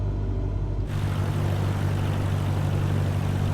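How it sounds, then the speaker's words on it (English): In Flight Simulator 2020, a light aircraft's cockpit holds a steady low engine drone, then after about a second a loud broad rush of airflow swells in as the flaps extend and stays constant. "See the flaps coming out."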